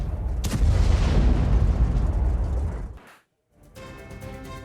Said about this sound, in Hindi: वीडियो में डिमोना सेंटर पर बमबारी दिखाई गई है।